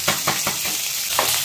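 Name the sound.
sautéing ginger and garlic in a pan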